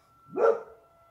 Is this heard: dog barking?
yes